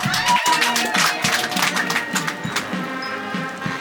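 A crowd applauds with dense, continuous clapping mixed with indistinct voices and light cheering throughout.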